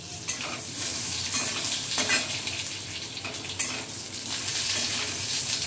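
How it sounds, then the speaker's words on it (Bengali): Potato pieces sizzle and fry in hot oil with whole-spice tempering and green chillies as a utensil stirs them, a steady close crackle with scraping strokes and no talking. "আলুটা তেলের মধ্যে ফোড়নের সাথে কিছুটা সময় নাড়াচাড়া করে"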